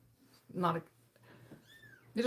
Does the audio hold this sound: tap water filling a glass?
no